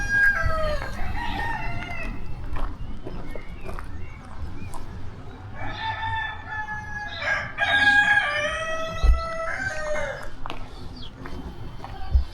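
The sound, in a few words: roosters crowing at a farm in Germany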